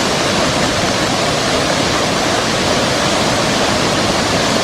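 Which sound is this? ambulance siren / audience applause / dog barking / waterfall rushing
waterfall rushing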